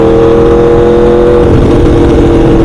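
A Dodge 392 V8 engine revs loudly and up close, a steady throaty drone with strong held tones that roughen slightly partway through, with no talking.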